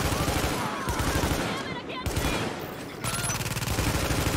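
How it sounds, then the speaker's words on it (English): Rapid gunfire from snipers in the video game The Division crackles in dense bursts with short pauses, loud and busy throughout. "It's just a bunch of snipers."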